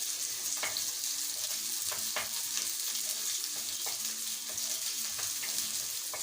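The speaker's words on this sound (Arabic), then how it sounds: "دلوقتي على طول في الطاسه هحط البصل بتاعي اهو، وهقلب كده" Onions fry in a hot pan while being stirred, a continuous bright sizzle broken by repeated scraping strokes of a spoon, close up with no voices.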